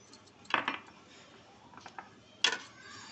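Utensil clatter and scraping against a bowl as brownie batter is mixed, in two brief bursts separated by quieter moments, fairly close and with no talking.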